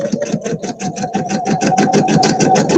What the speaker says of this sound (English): Right there, sewing along.